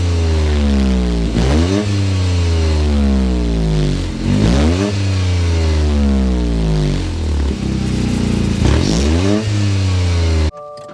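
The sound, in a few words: Toyota GR Corolla exhaust note revving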